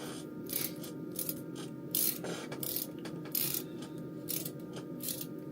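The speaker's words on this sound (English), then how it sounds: "I think I'm just benefiting from having a ratcheting screwdriver, period." A ratcheting screwdriver clicks in short bursts of rapid ratchet-and-pawl ticks at an amplifier repair bench, several separate runs of clicking over a steady background hum, close and fairly loud, with no talking.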